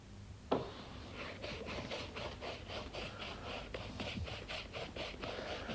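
A brush applies varnish to a painting canvas, making faint, regular scratchy strokes after a single soft knock near the start. No voices are heard.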